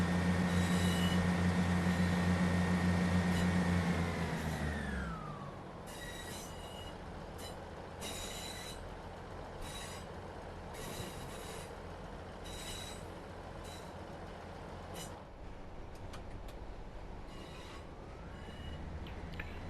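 A Class 158 diesel train in Train Sim World 3 roars under heavy throttle, then drops to a lower rumble with metallic wheel squeals and rail clatter as it runs on steadily, no voices.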